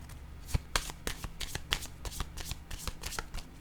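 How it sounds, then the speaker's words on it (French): A deck of playing cards being shuffled by hand, a string of quick riffling bursts and taps at close range, with no talking. "Je vais piger une autre carte."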